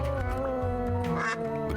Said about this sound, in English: if you press the Q button, he quacks